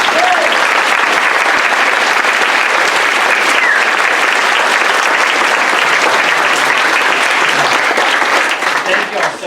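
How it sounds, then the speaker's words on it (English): An event audience applauds guests at a conservation kickoff gathering with Native leaders, a loud, full, continuous roar of clapping lasting nearly ten seconds, with some voices mixed into the crowd before it starts to thin at the end. "I want to invite you all to join me in giving a round of applause for our guests."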